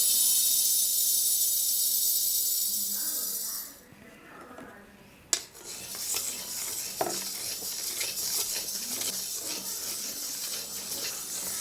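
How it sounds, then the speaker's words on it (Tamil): White urad dal roasts in a heavy wok: steady sizzle first, then scraping and stirring with gritty rustles and occasional metallic clinks, close and moderately loud. "அதை நல்ல பொன்னிறமாக வறுத்து எடுத்துக்கலாம்."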